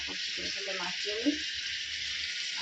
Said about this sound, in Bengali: আলুগুলো ভাজবো তেলটা গরম হয়ে গেছে